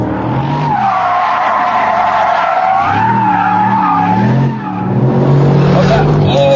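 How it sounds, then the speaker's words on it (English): Sports car engine on a racetrack, revving and shifting through paddle-shift gears while cornering, loud and continuous with rising and falling pitch, tire noise, and someone talking over it. "that awesome engine really makes this car"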